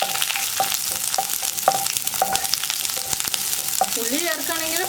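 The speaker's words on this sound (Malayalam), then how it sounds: "അതിൻ്റെ കൂടെ തന്നെ ഒരു തണ്ട് കറിവേപ്പില, ഇത്രയും ചേർത്തിട്ട് ഒന്ന് വഴറ്റിയെടുക്കുക." Onion and curry leaves sautéing in hot oil in a pan, a dense continuous sizzle with occasional scraping stirs, close and fairly loud.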